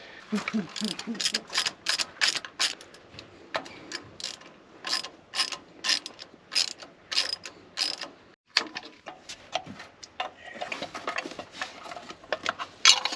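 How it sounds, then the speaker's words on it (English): A ratchet wrench loosens spark plugs on a V8 Ford Econoline engine that sat parked for decades, giving close, rapid bursts of clicking in an uneven rhythm with short pauses between turns. "let's go ahead and pull these spark plugs"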